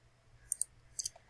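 Several crisp computer mouse clicks heard close and alone in a quiet room: a quick pair of clicks, a short pause, then another quick pair while settings are being saved.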